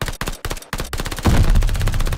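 Rapid automatic gunfire from a weapon in the Call of Duty: Vanguard campaign, loud close bursts of shots separated by short gaps before merging into a continuous heavy barrage.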